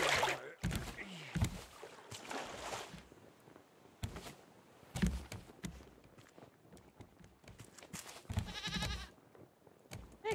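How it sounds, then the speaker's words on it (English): Goats bleat several times amid open-sea surroundings in the survival game Raft, with footsteps and splashing mixed in and players chatting over the top. "goats"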